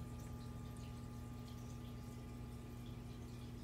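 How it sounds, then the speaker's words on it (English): Submersible water pump pushing water up about five feet into a fish tank setup, a steady close hum with continuous trickling, gurgling flow and no voices. "a water pump submersible strong enough to be able to push the water"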